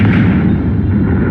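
A Confringo fire spell explodes in Hogwarts Legacy as a loud, deep, rumbling blast that fills the short moment and slowly trails off.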